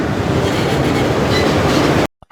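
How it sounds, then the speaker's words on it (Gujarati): Steady loud rumble and rattle of a moving passenger train heard from inside a carriage, continuous for about two seconds before cutting abruptly to near silence. "લાંબા ટાઈમ પછી આપણે ટ્રેનમાં બેઠા છીએ"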